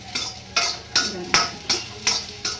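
Okra (bendekai) being stir-fried in a pan gives rhythmic scraping strokes of a spatula, about seven evenly spaced swishes with a faint sizzle beneath, close and moderately loud.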